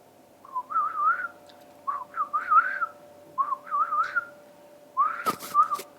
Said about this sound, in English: Now you whistle.